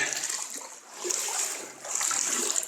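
Water flowing out of pond leveler pipes at a beaver dam, a steady splashing trickle with a bright hiss, rising and dipping slightly in level, close by and with no speech.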